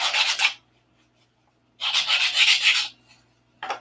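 Hand sanding on flaps, two long rough rubbing passes and a short third stroke, close and fairly loud, separated by silence.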